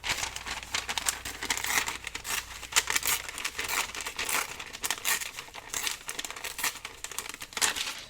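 Close, continuous crinkling and ripping of 12x12 scrapbook paper, busy and textured throughout with a few sharper tears standing out.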